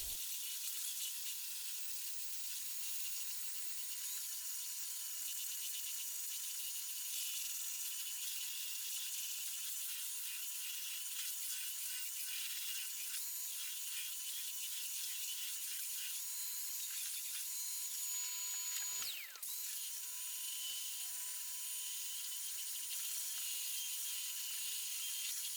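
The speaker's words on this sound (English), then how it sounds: "This is the area I'm sanding with one paper." Steady hissing scrape of sandpaper working cured epoxy on a boat's second hull, continuous and fairly close for the whole stretch with only a brief break in the stroke near the end.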